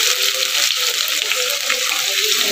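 Garlic hits very hot oil with cumin seeds, giving a close, loud, steady crackling sizzle of fierce frying that holds without a break.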